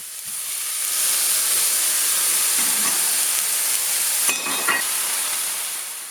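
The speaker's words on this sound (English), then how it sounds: "I'm just going to saute the pepper and onion on some high heat" Pepper and onion sautéing over high heat, a continuous loud hiss and sizzle filling the whole stretch, with a couple of brief clatters near the end.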